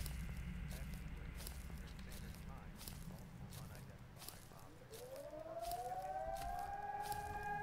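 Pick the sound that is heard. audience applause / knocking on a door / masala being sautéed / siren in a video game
siren in a video game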